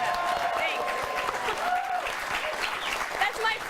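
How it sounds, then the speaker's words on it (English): Studio audience at a late-night talk show applauds in a dense, steady burst lasting several seconds, with a voice audible underneath the clapping. "That's my first applause."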